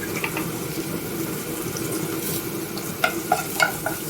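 Minced garlic frying in oil used for cooking onions, a continuous close sizzle with several scraping stirs and clinks of a spoon against the pot near the end.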